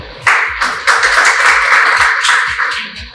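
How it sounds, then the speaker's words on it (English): Applause from a spelling bee audience, a burst of many hands clapping that starts abruptly and stays steady and fairly close for a few seconds before tapering slightly. "A big round of applause for"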